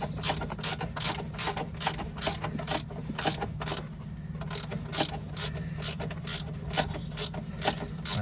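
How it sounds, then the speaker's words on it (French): A ratchet clicks in quick, steady bursts as a bolt is driven into the suspension arm, or triangle, of a Peugeot 206, with close metallic pawl ticks and short pauses between strokes. "Là je suis en train de visser la vis, elle est en train de descendre."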